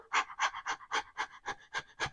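Quick, rhythmic panting through the nose, about nine short breaths in a steady pulse, close and clear, like a dog catching its breath; a person imitating it as a singing warm-up breathing exercise.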